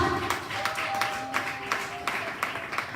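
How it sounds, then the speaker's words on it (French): A church congregation applauding during a sermon, a steady patter of many hands clapping at moderate volume with a few sharper claps standing out, steady for the whole stretch. "Acclame pour toi-même ce soir."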